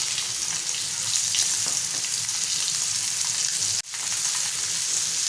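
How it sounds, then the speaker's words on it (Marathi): Mandeli fish frying on one side in a shallow layer of oil in a pan over a medium flame, a steady dense sizzle that runs throughout with one brief drop near the end. "दोन 3 मिनिटं आपण एका साइडने छान फ्राय करून घेऊया।"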